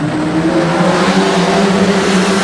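Street stock race cars roar away from a heat start at Redline Raceway, several engines droning loudly together in a steady, dense rumble with rising pitch as they accelerate.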